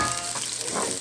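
Three cloves of freshly sliced garlic sizzling in a hot pan with onions for an upo and sardine stir-fry, a close, steady bright frying hiss with small crackles and no talk.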